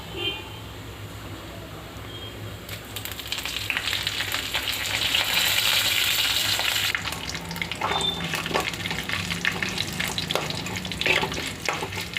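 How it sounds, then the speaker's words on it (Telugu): Cumin, mustard seeds, curry leaves and turmeric crackle and sizzle in hot oil, a dense spattering hiss that swells and then settles, with stirring clinks and a voice speaking underneath. "ఇందులో జీలకర్ర, ఆవాలు, కరివేపాకు అండ్ పసుపు వేసేసి పోపు పెట్టేయడమే."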